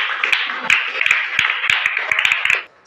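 Classroom applause with several pupils clapping together in a dense, uneven patter, near and fairly loud, stopping abruptly at the end.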